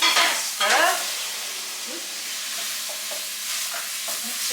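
Borscht vegetables, carrots among them, stirred in a pot: a few quick scraping strokes at the start, then a low, even simmer with light knocks of the spoon against the sides.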